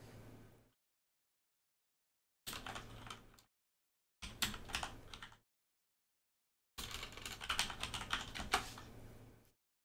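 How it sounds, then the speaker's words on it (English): Computer keyboard typing during a live Steel Division: Normandy 44 game session, coming in three separate bursts of rapid clattering keystrokes with silent gaps between, close and fairly loud, with no talking over it. "Sorry if you can hear the keyboard"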